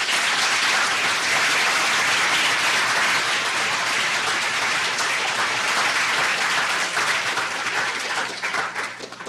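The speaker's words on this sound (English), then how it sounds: "If you'll join me in giving Professor Gross and our student panelists another round of applause." Sustained, dense applause from a lecture audience for a professor and student panelists at a Constitution Day event, loud and even for most of its length before thinning slightly at the end.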